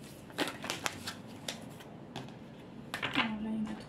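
Cards shuffle and snap softly during a tarot-style reading, several brief papery riffles and taps spread across a quiet room, with a faint voice murmuring in the background.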